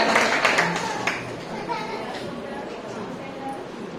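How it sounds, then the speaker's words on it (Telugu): A church congregation at a Sunday service claps hands, with a burst of sharp, dense claps at the start that thins out and fades after about a second, under ongoing speech. "చప్పట్లు కొడదాం దేవుని నామమున."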